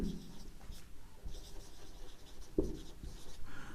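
Pen writing notes for an English grammar lesson, a soft continuous scratching with a few sharper strokes, close and quiet, with no one talking.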